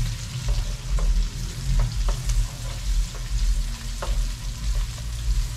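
Onion frying in a pan for a Guyanese fish curry, a loud, steady sizzle with occasional light stirring ticks and a low hum underneath, no voices.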